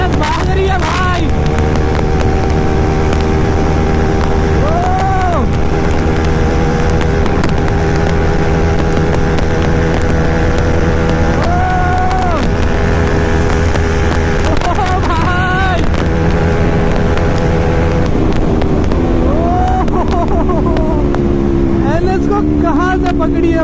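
Bajaj Pulsar NS400Z and KTM Duke 390 motorcycles racing, a steady loud engine drone with rising and falling revs and gear changes throughout, heavy wind rush over it, and someone talking over the noise.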